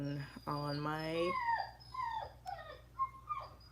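A dog whimpers and then howls in a rising, drawn-out wail, followed by shorter whining yips, close and fairly quiet indoors, alone without talk.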